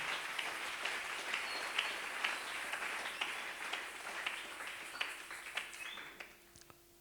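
Congregation applauding in a church service, a steady wash of clapping held at moderate loudness for several seconds before thinning out near the end.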